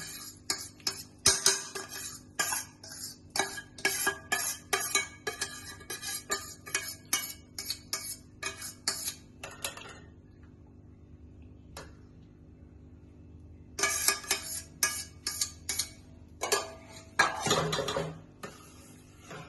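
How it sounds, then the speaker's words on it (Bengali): Rice stirred into milk in a pot for payesh, a quick run of close metallic scrapes and clinks of a spoon against the pot, pausing a few seconds before another burst of stirring. "এবার একটু ভালো করে নেড়ে দিচ্ছি"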